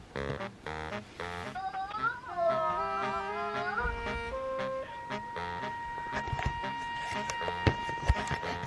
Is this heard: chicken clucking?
no